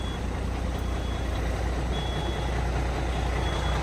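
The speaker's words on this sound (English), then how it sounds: "Oh, that sounds like a proper truck." A Kenworth cabover truck at an auction idles with a steady low diesel rumble, close and constant, with a faint high tone running through it.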